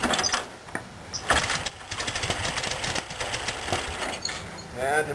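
A 1956 Ziegler fire brigade water pump driven by a VW industrial engine cranks and sputters into uneven firing, with irregular bursts and knocks, while a person talks nearby.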